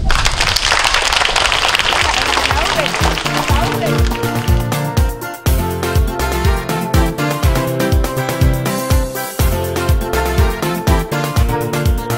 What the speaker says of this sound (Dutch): Applaus voor jezelf